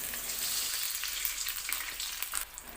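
Chili peppers sautéing in a frying pan for a simple Indonesian home dish, a steady close sizzle with faint stirring, no talk.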